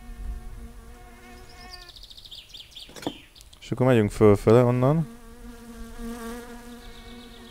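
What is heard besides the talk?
flies buzzing in the video game My Summer Car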